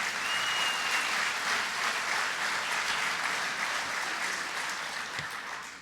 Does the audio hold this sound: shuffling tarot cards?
no